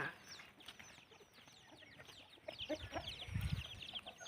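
Burmese fighting chickens clucking on a chicken farm, scattered calls and chirps over steady farmyard ambience, with a louder low flurry near the end.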